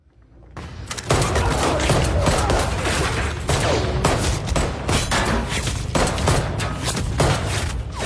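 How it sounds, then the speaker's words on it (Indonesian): Heavy, continuous gunfire in a film rattles nonstop, dense overlapping shots and bursts forming a loud, chaotic barrage with no pauses. "Tae-gu dan Jae-yun baru saja sampai dan mendengar suara tembakan dari dalam."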